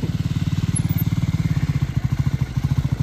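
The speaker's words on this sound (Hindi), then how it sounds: "राज भाई ट्रैम स्क्रैम्बलर की टेस्ट राइड लेते हुए" A Triumph Scrambler 400X motorcycle on a test ride gives a steady, close, low single-cylinder thump with a fast even pulse, loud and alone throughout.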